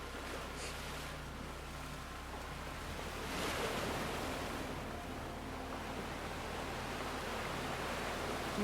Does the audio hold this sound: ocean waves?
yes